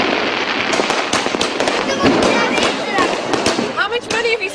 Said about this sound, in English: How much money have you spent on the fireworks?